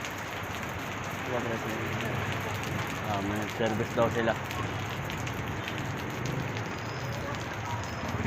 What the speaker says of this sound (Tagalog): napakalakas talaga ng ulan dito.